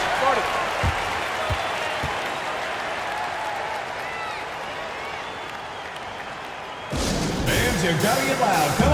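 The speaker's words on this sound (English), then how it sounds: "let's have a round of applause for the Cavalier girls" A basketball arena crowd from the NBA 2K25 video game claps and cheers in a steady wash of applause that swells sharply near the end, with commentary-style talking over it.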